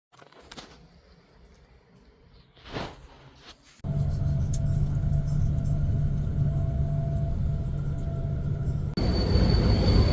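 Metro train ride in Vienna or Budapest: steady loud rumble of the carriage running on rails with a sustained hum, beginning after a quieter stretch of station ambience and rising slightly toward the end.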